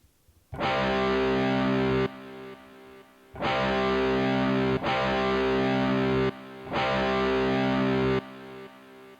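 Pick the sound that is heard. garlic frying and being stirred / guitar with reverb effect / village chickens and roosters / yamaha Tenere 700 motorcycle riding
guitar with reverb effect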